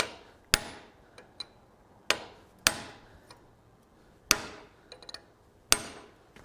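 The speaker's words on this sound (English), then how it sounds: "we're going to cut right down the dead center of this bar stock" A hammer drives a slitting chisel through hot steel bar stock, five sharp ringing metallic blows spaced roughly a second or more apart, each with a short decay and lighter taps between.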